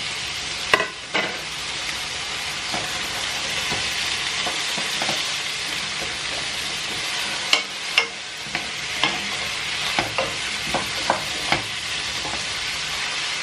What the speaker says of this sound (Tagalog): Lagyan natin yung potato para siyang mag-golden brown yung potato.